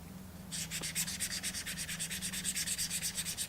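Brisk, rhythmic rasping of 1000-grit sandpaper rubbing back and forth on a leather edge, close and steady, starting after a brief quiet moment.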